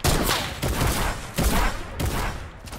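Loud video game gunfire cracks out in several close, sharp bursts spaced roughly half a second apart, with a fast shooter-game feel and no talking over it.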